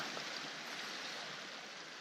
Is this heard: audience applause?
no